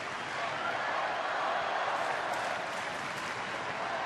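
A big baseball stadium crowd of about 54,000 applauds in a dense, even roar of clapping that holds steady throughout, with faint voices mixed in.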